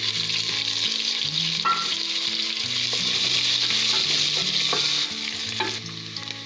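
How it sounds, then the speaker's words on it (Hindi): Onions fry in a pan with cumin, fenugreek and coriander seeds for a Punjabi kadhi pakora, making a continuous close sizzle with occasional stirring scrapes over faint background music. "फिर तुम इसके बाद इस प्याज पा देना।"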